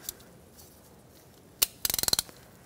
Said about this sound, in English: And we're going to unscrew it.